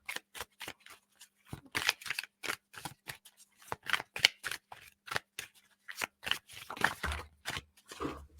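Tarot cards being shuffled: a rapid run of crisp, close riffling slaps and flutters, dense and continuous, with no voices.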